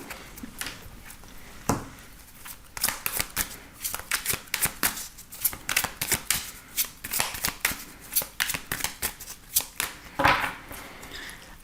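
Tarot cards are shuffled by hand in a steady series of crisp riffling bursts and soft slaps, close and clear with short pauses between.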